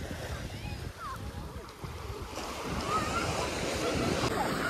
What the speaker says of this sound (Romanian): Uite ce valuri, da?